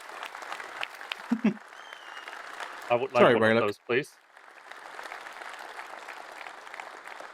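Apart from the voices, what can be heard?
applause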